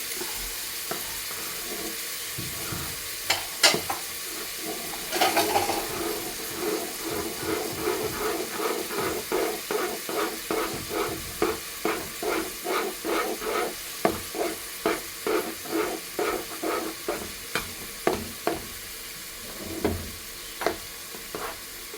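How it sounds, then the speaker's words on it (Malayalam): Flour dough mixed with boiling water stirred in a pan, a steady rhythmic series of close scraping, squelching strokes that grow regular and repeat roughly every half second, with a soft steamy hiss underneath and no talk. "നല്ലോണം ഇളക്കി ചേർത്തെടുക്കാം."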